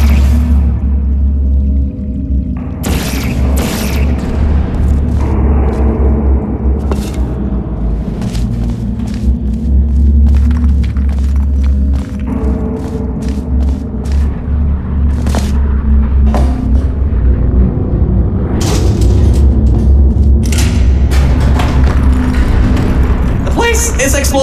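Explosions and tumbling rock debris inside a collapsing facility in Portal Stories: Mel, a steady heavy rumble with repeated booms and crashes throughout, mixed under music and occasional speech.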